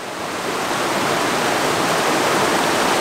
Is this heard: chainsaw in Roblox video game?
no